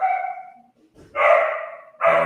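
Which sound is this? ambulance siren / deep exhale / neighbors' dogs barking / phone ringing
neighbors' dogs barking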